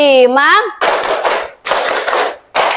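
Three loud rounds of group hand clapping in a school classroom ice-breaking game, each a dense burst of many hands, separated by short pauses after a spoken count.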